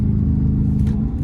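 A Dodge Charger R/T, Scat Pack or Hellcat V8 gives a brief, loud, deep rumbling blip of the throttle during a rev-matched downshift, heard close up.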